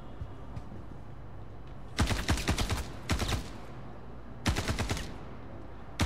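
Loud automatic gunfire rattles in three close bursts as enemies are shot in a video game, separated by quieter gaps of low background noise.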